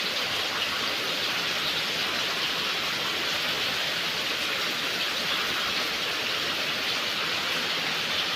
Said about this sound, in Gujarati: જો વરસાદ કેવો પડે ને એમાં ચાલુ થઈ ગયા